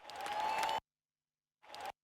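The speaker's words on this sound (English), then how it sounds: "The audio element I'm gonna play with is a crowd cheer sound which sounds like this." A crowd cheer sound effect plays back in two bursts, a longer roaring swell cut off abruptly, then a brief quieter snippet after a gap of silence.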